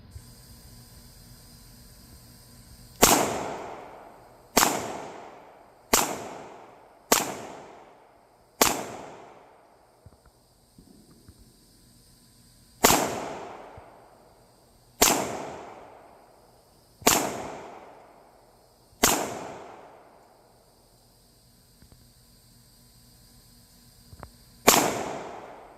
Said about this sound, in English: So she's going to go and fire some more shots.